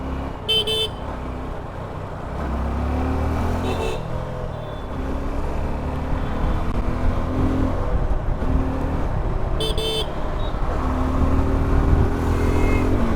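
Motorcycle riding at around 60 km/h through traffic on a main road, a steady engine and wind roar throughout with short car-horn toots nearby at the start, around four seconds and near ten seconds.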